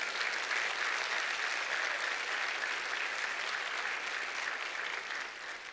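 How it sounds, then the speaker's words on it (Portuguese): A church congregation bursts into loud, continuous applause, a thick wash of many hands clapping together that holds steady throughout. "Pode aplaudir o Senhor"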